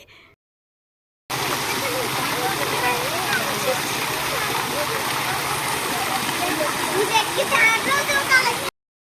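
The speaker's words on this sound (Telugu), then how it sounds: "ఇక్కడ చూడండి, వాటర్ ఎలా ఫ్లో అవుతుందో." Water flows continuously through a water feature at an exhibition garden, a steady, loud rushing wash that starts abruptly and holds unbroken for about seven seconds.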